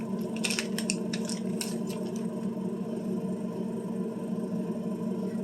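Two Dollar Tree bacon packages being opened by hand, with a cluster of crisp plastic crinkles and tearing in the first couple of seconds, then quieter handling over a steady background hum.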